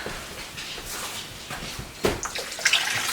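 Water splashes and pours in short bursts into a cooking pot, close by, with no talking.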